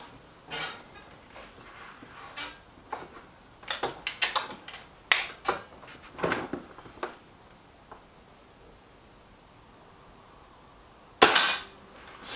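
Air rifle shots from a Kral Puncher Maxi, a series of sharp crisp cracks spaced irregularly across the clip, with a louder final report near the end.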